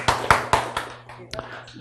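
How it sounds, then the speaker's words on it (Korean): Several quick, close handclaps from a class come in an uneven run and then fade into light tapping, with a low steady hum beneath them. "여러분, 왜 박수를 치는지 아세요?"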